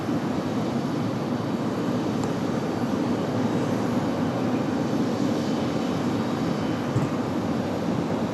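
An Envoy regional jet roars down runway 23 right at Raleigh-Durham International on takeoff, a loud, steady broadband engine rumble that holds unbroken throughout.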